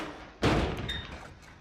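A door swings shut in the video game The Last of Us Part II, one solid thud with a short rattle after it, heard close and alone against a quiet background.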